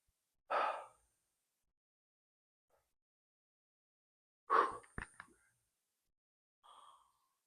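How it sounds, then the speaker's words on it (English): Heavy breathing demonstrated during a stretching workout, a few loud, close, isolated breaths: a sharp gasping inhale, a longer huffing exhale with short snorting bursts, and a softer final breath, separated by silence. "If you're not breathing, I'm going to breathe heavy for you."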